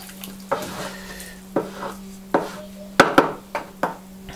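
A stainless steel caterer's whisk clacks against the side of a container of pottery glaze, with sharp, irregular knocks about once a second over a steady low hum.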